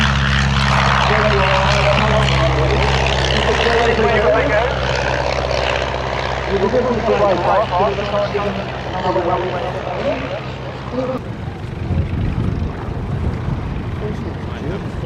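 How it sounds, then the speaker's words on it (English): A Schleicher ASK 16 motor glider and a Cessna 140 light aircraft flying past, propeller engines droning loudly and then fading as they move away, with a voice talking over them. "So here come the Dutch and Norwegian contingent. The Schweiker Ask 16 in the lead, with the Cessna 140 joining up with it."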